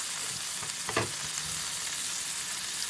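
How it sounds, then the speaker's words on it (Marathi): Bangda mackerel frying in hot oil in a pan, with a dense, even crackling sizzle heard close up and one brief scrape or shift of the fish partway through. "मासा बघू शकता कसला फ्राय झाला एकदम."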